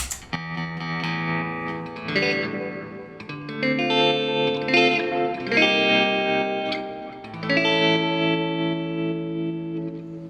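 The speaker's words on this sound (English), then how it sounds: "We've got the carbon copy analog delay. And if you combine that with the Supa-Trem" Electric guitar chords and notes through a Carbon Copy analog delay and Supa-Trem tremolo pedal, with thick echo repeats and a pulsing tremolo wobble, sustained and loud, no talking.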